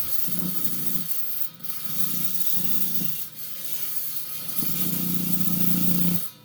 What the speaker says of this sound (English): I just run it through this old grinding disc here a couple times